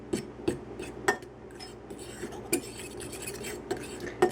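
Flour, baking powder and salt for biscuits being whisked in a bowl, a run of light metal scrapes and sharp clinks against the bowl at an uneven rhythm, close and moderately quiet.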